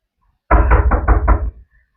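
Five quick, loud knocks land on a door in a home, sounding close and heavy in a steady rhythm, then stop, with no voices over them.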